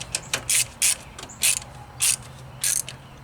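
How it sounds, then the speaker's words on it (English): Tekton palm ratchet turning in short strokes on Jeep 4.0 rocker arm bolts, a series of about six crisp, close clicking bursts separated by brief pauses. "I got my little handy dandy palm ratchet thingy right here"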